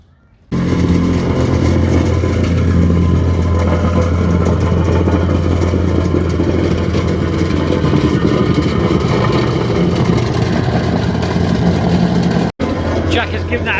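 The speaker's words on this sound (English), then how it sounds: "Jack has given that a good compaction now, and you can see that with a lean mix how good it is, because the compactor plate is bouncing" A plate compactor runs over a lean-mix bed laid beneath a porcelain plank patio, giving a loud, steady engine drone with a juddering rumble. It carries on unbroken apart from a brief drop near the end.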